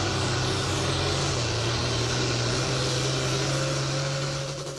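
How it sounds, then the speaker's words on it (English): Tractor pull engines roaring at a fairgrounds Independence Day event, a dense, continuous droning roar with a low rumbling hum, loud and steady throughout with no talk. "you might have heard engines roaring this afternoon near Mendon"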